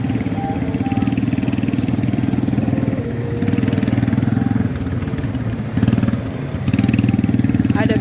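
ATV quad bikes running on a beach in West Sumatra: a close, pulsing engine drone that stays steady for several seconds, with brief dips and rises in throttle and faint voices in the background.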